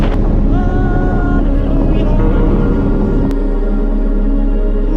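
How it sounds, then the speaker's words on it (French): Loud, steady wind buffeting the microphone with a constant low roar, a faint engine hum underneath throughout. "le vent souffle fort"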